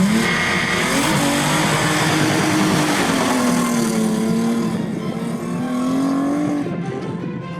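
A rear-wheel-drive Ford Transit van fitted with a 2.9 24-valve Cosworth V6 revs loud and close, holding a continuous engine roar whose pitch rises and falls throughout.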